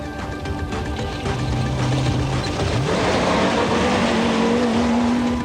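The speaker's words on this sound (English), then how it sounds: "Philip Milan and Richard Leake in the turbo Toyota Hilux were the first of the Bucky Brigade" A turbo Toyota Hilux rally vehicle roars loudly at the 1990 Roof of Africa rally, its engine note rising and shifting through gears in a sustained, close, aggressive drone.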